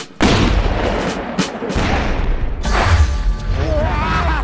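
A loud shouted command, then a heavy booming cannon blast that rolls out into a long rumbling roar with crackling debris.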